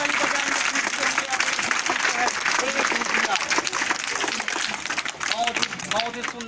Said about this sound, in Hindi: जोरदार ताली बजाएंगे इसके लिए।